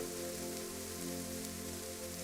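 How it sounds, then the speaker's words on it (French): Slow, fine, steady rain patters softly on a surface, an even, faint hiss of drops that neither builds nor fades, with a low steady hum beneath and no voices. "C'est une pluie lente, fine, régulière"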